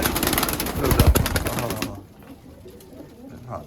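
Iraqi pigeons kept in a loft in Germany, cooing amid a dense wash of bird noise and clatter that drops away halfway, leaving quieter murmuring coos.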